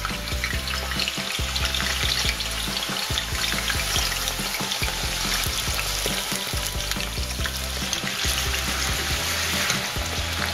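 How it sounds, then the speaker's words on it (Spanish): Potatoes for a Spanish tortilla frying in hot oil, a dense, continuous sizzle and crackle that stays loud and steady throughout, with occasional stirring noises and no voices. "Tenemos el aceite caliente, tengo mis papas que están escurridas, ¿vale? Y las vamos a ir introduciendo poco a poco."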